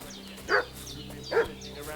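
In the video game Kingdom Come Deliverance 2, a dog barks twice, about a second apart, over a low, steady background hum.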